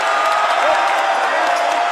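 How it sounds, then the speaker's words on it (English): A basketball crowd at a Region 16 championship game reacts to a missed shot with a sustained broad roar of voices and cheering, steady and loud throughout with no clear breaks. "And there's the crowd to let him know he missed it."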